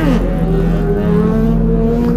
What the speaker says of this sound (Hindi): वो थी व्हीली, मस्त।